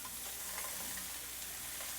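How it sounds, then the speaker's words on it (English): Pork belly sizzling as it crisps in a hot pan, a steady, faint hiss and crackle with no voices. "careful, it's very hot, it's going to sizzle"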